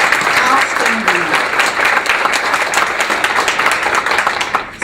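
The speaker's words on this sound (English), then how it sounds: "we should give her just a round of applause" Conference audience applauding a speaker at an opening keynote, loud dense clapping filling the room steadily for several seconds, with a short voice near the start.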